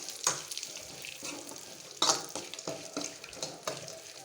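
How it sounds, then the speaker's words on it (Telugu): Dry fruits fry in ghee, including almonds, raisins, melon seeds and dried coconut, with a soft continuous sizzle under repeated scraping strokes of a spoon in the pan. The sound is close and fairly quiet, and nobody speaks. "నెయ్యిలో కొంచెం వేయించుకోవాలి."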